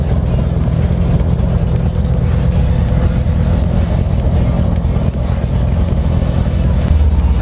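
Several Harley-Davidson motorcycles riding along a town avenue, a loud continuous low engine rumble from close by that holds steady with slight swells in throttle.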